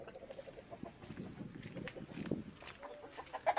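A hen clucks softly in short, irregular bursts, fairly close, with faint background noise and no talking.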